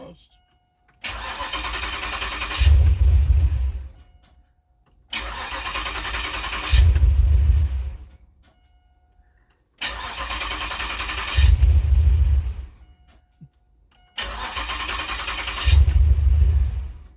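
A 2007 Pontiac Grand Prix GXP engine with a cam and ECM tune, heard close up through four repeated cycles of steady running that each swell into a deeper, louder surge before cutting off, separated by brief silences.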